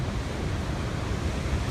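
Ocean surf at Muxía on the Galician coast, a continuous broad roar of breaking waves with wind rumbling across the microphone, steady and loud with no voices.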